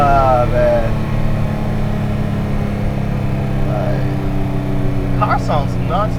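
A boosted Nissan NISMO engine holds a loud, steady, deep mechanical drone up close, with brief voices cutting in near the end.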